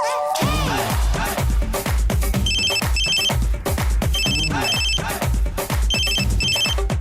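A phone ringtone rings several times in a tuneful electronic pattern, repeating in short bursts over a pulsing, beat-heavy music track in a Kannada TV serial.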